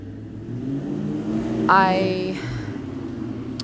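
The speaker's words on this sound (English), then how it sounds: "Wow, that car is loud." A car engine hums in the background, then briefly revs up with a rising whine before settling back to a steady drone.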